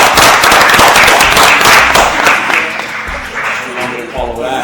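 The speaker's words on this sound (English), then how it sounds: "Please get a round of applause." A conference audience bursts into loud, dense applause that holds strong and then slowly thins, with a few scattered claps and faint voices near the end.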